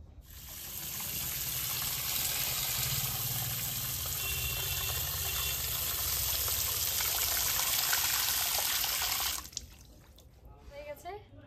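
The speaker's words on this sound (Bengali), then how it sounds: "মাছগুলো ভালো করে ধুয়ে নেব, কিন্তু বেশি ধোয়া যাবে না" Hilsa fish rinsed under running water in a home kitchen: a continuous close splashing rush of water for several seconds that stops abruptly near the end, followed by a few quieter handling sounds.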